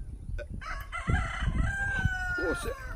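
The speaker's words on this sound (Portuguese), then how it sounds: "E esses galos cantando é o quê?" Roosters crowing nearby, several overlapping drawn-out calls with clucking mixed in, fairly loud and layered over a low outdoor background.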